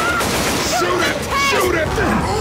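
Rapid gunfire crackles and booms in Left 4 Dead 2 as survivors shoot at the Tank, loud and dense, partly buried under shouting voices and a growling creature.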